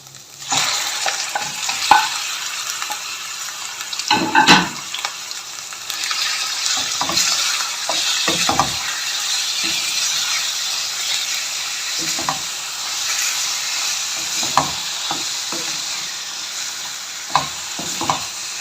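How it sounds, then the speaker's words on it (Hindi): Long chicken strips frying with ginger and garlic over a medium flame, a loud continuous sizzle broken by frequent scraping and stirring knocks from a spoon in the pan. "यहाँ पर हम चिकन को तकरीबन 3 मिनट के लिए मीडियम फ्लेम पे फ्राई कर लेंगे।"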